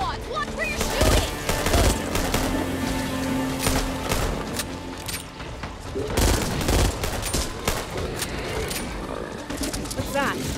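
Dense gunfire from the zombie shooter Back 4 Blood, with sharp repeated shots and bursts scattered through a busy mix of in-game ambience, and voices talking over the action throughout.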